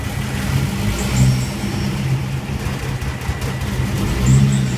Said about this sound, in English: clearly has a cold start idle issue